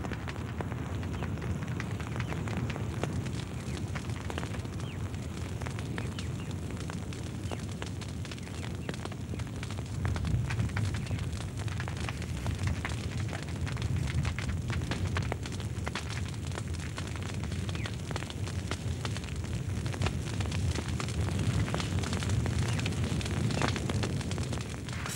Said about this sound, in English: hill fires often blaze out of control